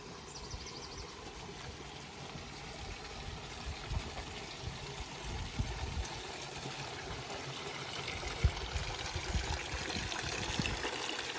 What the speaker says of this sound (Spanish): vamos a coger la flor del agua en los dos caños aquí de la fuente de Merún